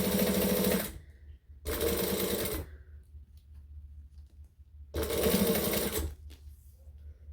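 A sewing machine stitches a handbag in three bursts of about a second each, loud and near, with quiet pauses between them as the fabric is adjusted.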